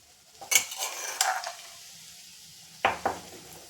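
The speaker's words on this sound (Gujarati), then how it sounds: "આ રીતનું આપણે તેલમાં એને સિંગને મિક્સ કરી દેવું" Crushed peanuts stir in hot oil in a pan with cumin and asafoetida, producing a few metallic spoon clinks and scrapes against the pan over a faint, quiet sizzle.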